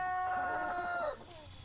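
A rooster crows with a drawn-out call close by, ending about a second in, while a chicken's clucking and some farmyard noise carry on faintly behind; no one speaks.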